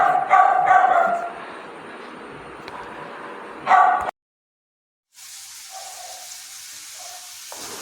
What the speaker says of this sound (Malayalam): ഇവിടെ ഇപ്പം ഭയങ്കര കുരയാണ് പട്ടി